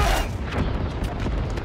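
A loud, booming bomb explosion from the animated series Arcane, with a rumbling, crackling blast that fills the whole moment, heavy and close.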